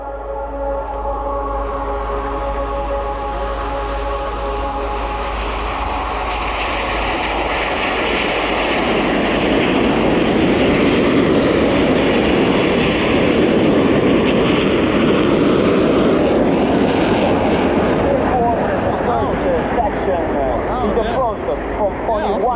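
Military aircraft at the RIAT 2022 air show accelerating down the runway on a formation takeoff roll, a loud sustained engine roar that swells and thickens over twenty seconds, with no talk.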